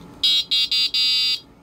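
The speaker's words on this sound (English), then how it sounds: "It's got a nice little beep, a horn on it, so you can warn people." Electric bike horn beeping: four loud electronic tones close by, three short ones then a longer held one, with no voice over them.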